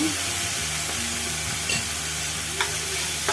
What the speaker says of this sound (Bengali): পেঁয়াজ বাটা দিয়ে দিলাম